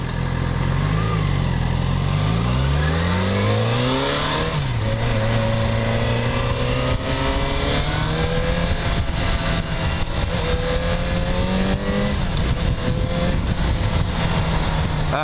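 A 2013 Yamaha FZ6R motorcycle engine accelerates loudly and close, its pitch climbing through the gears with brief dips at each shift, a steady strong roar throughout with no talk.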